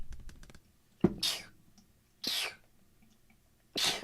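A person sneezes indoors after loose powder makeup, with a sharp close burst followed by two more breathy sneeze-like bursts spaced about a second apart, amid quiet room tone and a little preceding talk.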